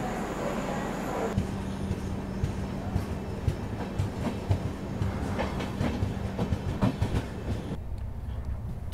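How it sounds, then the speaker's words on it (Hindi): Indore–Delhi Sarai Rohilla Express pulling out of Mandsaur railway station, heard from inside a coach: a steady low rumble with a hum, and wheel clatter that becomes more frequent as the train gathers speed. "तो करीब 11:06 पर हम लोग निकल रहे हैं अब मंदसौर रेलवे स्टेशन से।"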